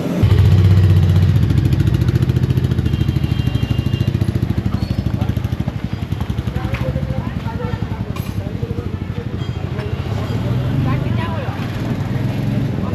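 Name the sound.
Royal Enfield Meteor 350 motorcycle engine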